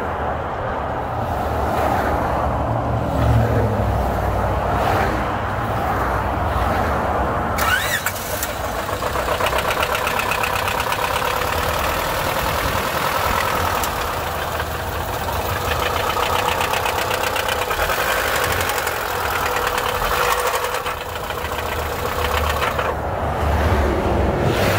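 A Honda car with failing bearings, which had shut off on the highway, cranks over and fires up, then settles into a continuous rough idle with a mechanical knock running beneath a steady engine drone.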